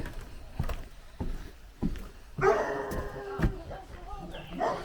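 A neighbour's dog barks several times at a distance, short sharp yips spaced out, with some background clatter and a voice partly under it.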